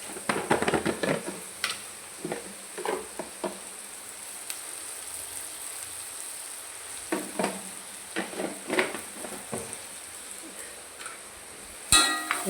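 Squid and masala frying in hot oil give a steady close sizzle, broken by bursts of scraping and stirring clatter with a few sharper knocks.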